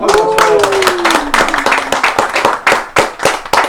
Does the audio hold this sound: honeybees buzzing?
no